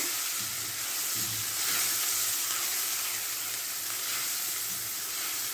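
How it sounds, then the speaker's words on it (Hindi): Chopped onion sizzles and fries in a hot pan for a chicken malai handi, a steady loud crackling hiss with faint stirring, no voices. "3 से 4 मिनट इसको फ्राई करते हैं ताकि प्याज का कच्चापन दूर हो जाए"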